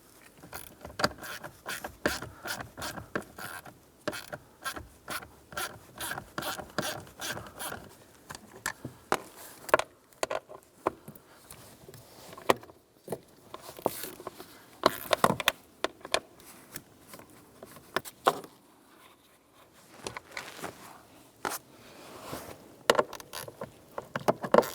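8mm bolts are removed from the blower motor of a 2000-2006 Toyota Tundra, with rapid ratchet clicks in repeated bursts and scattered metallic handling noises, close but fairly quiet, pausing now and then.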